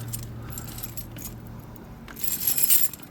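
Metal picks from a McNally Reaper lockpick set lift the pins inside a lock, giving a faint scratchy background and then a brighter metallic jingling and clinking near the end, with no talking.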